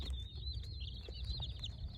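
Young meat bird chicks peep continuously at close range, their soft high chirping overlapping over a faint low background hum.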